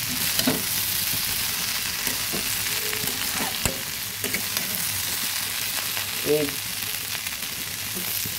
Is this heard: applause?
no